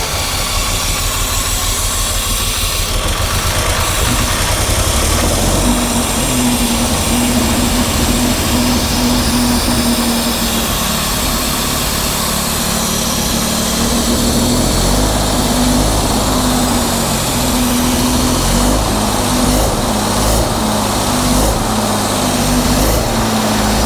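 A 1962 Jaguar engine, after sitting 15 years, cranks and then runs with a loud, continuous, rough idle close by, a steady drone with a slightly shifting tone throughout and no talking.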